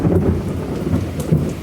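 Heavy rain pours steadily in the first monsoon downpour, a dense broadband hiss with thunder rumbling underneath and gusty wind, loud and close with no voices.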